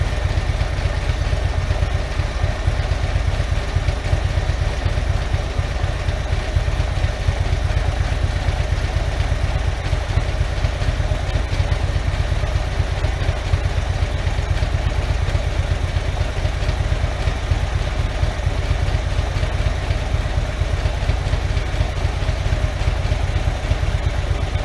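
A Harley-Davidson motorcycle engine idles with a steady, continuous low rumble. It runs alone without a break, with a constant whir of powerful cooling fans that blow on the cylinder heads.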